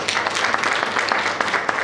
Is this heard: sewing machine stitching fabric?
no